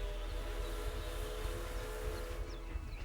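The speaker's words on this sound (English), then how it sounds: "Can we ride the steam train?" Steam train in the zoo management game Planet Zoo, a steady rumbling run with sustained tonal whistle-like hum, close and continuous.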